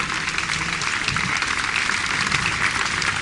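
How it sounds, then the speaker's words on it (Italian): Steady, dense applause from an audience greeting the international jury at the opening ceremony of an aerobatics championship in Foligno, Italy, many hands clapping evenly and fairly close throughout. "che vi prego di applaudire"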